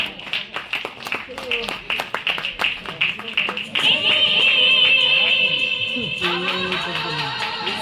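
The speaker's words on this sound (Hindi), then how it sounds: "मु चाहेबी टिके जोरदार ताली हो।" An audience claps at an award ceremony at an Akashvani radio lovers' event in Cuttack. Scattered claps build into sustained applause, with a voice heard toward the end.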